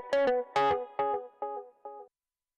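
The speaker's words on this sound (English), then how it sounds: "So there's distortion and pretty much low pass filtering." Electric guitar for a pop mix, played through lo-fi distortion with low-pass filtering and reduced sample rate, five or six separate chords or notes in a rhythmic pattern, each one dirty and darkened and shorter than the last.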